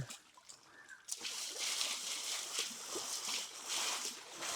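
A horse bathing in water sends up continuous splashing and sloshing, steady and fairly close after a brief quieter start, with no talk over it.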